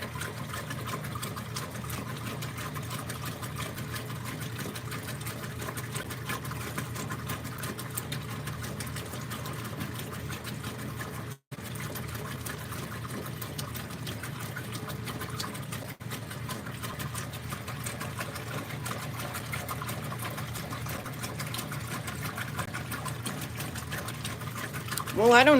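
A 40-year-old Whirlpool direct drive washing machine washing a load of colors, with a steady rhythmic agitating hum and water sloshing that runs continuously at moderate loudness, broken briefly by a couple of short dropouts.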